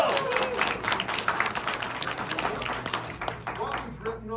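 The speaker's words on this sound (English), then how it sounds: "Give him a round of applause." Audience applause and clapping at a Momocon 2022 convention panel, a steady patter of many hands under cheering and talk, with claps spiking here and there across the whole stretch.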